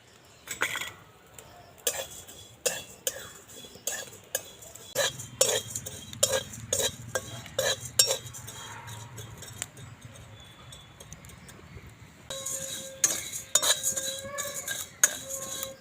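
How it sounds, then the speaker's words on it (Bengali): A spatula scrapes and rattles against a dry wok as flattened rice is stirred, in irregular strokes with a brief lull midway. "শুকনো কড়াতে দিয়ে ভেজে নিচ্ছি অল্প অল্প করে দিয়ে ভাজবো"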